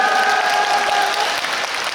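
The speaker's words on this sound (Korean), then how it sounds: "여러분 응원의 박수 한번 부탁드립니다." An audience at a film festival open talk claps in a dense, even burst of applause lasting a couple of seconds and fading slightly at the end.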